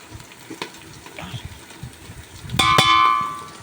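Bagara rice frying in a pot as chicken masala is stirred in, soft scrapes and clinks of the spoon over a quiet sizzle, then a louder metallic clatter near the end.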